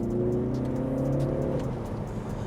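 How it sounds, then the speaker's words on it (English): Cabin view of a BMW G21 330e plug-in hybrid with a Stage 2 tune, its engine a steady low drone with a faint whir, holding a fairly even level and easing off slightly toward the end. "showcase you how the car sounds from the inside"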